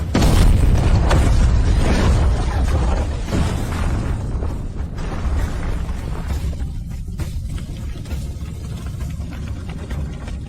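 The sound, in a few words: bomb explosion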